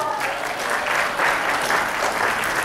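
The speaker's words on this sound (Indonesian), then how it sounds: "Tepuk tangan dong." Steady, dense audience applause at a goal-setting seminar, filling the room with continuous clapping from start to end.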